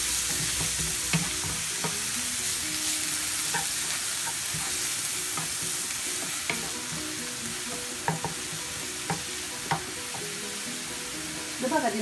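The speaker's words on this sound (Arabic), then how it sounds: "هذا التحريك" Garlic frying in a pan, its steady close sizzle running throughout while a utensil stirs and scrapes it in repeated light strokes.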